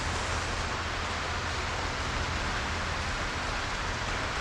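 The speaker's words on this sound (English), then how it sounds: "The rain is so loud and I love it." Heavy rain in the zombie survival game Project Zomboid pours as a loud, dense, unbroken hiss, steady throughout with no voices.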